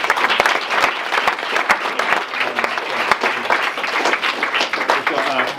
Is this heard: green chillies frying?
no